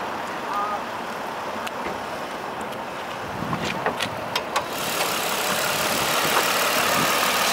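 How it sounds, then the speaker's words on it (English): A 2005 Nissan Murano's 3.5-litre V6 runs at a steady, moderately loud idle, with a few sharp clicks partway through and the engine noise swelling slightly toward the end. "So this is the engine that made Nissan very famous."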